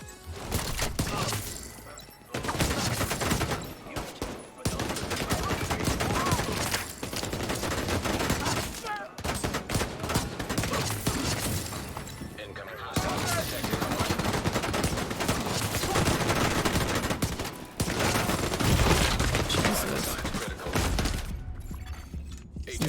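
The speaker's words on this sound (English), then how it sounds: "These guys never stop shooting me that time." Enemy gunfire in The Division 2, dense bursts of automatic rifle fire and shots crackling almost without pause for over twenty seconds, loud and close, with brief gaps and some impacts mixed in.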